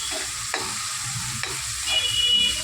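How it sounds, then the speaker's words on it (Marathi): Onion pieces sizzling in hot oil, two medium onions being fried toward golden brown for chana masala, with steady frying hiss and a few sharp spatula scrapes as they are stirred, growing a little louder near the end; no talking. "कांदाही आपल्याला सोनेरी रंग येईपर्यंत भाजून घ्यायचा आहे"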